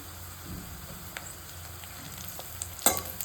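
Onion, green chilli and leaves frying in oil for a Vidarbha-style ghugrya dish, a steady low sizzle with soft stirring scrapes and a sharper clink of the spoon near the end; no talking.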